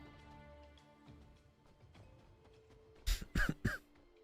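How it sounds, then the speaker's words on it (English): A person gives a cluster of sharp coughs close to the microphone near the end, three abrupt bursts in quick succession after a quiet stretch of low background sound. "these coughs that I'm not expecting just come up out of nowhere"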